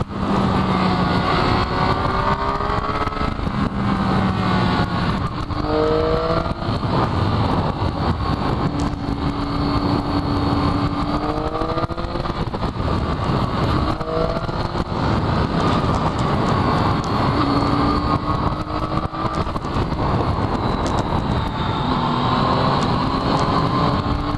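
A Triumph Daytona 675 motorcycle riding through corners on a park road, its engine rising and falling in pitch as the throttle opens, under steady loud wind noise the whole time.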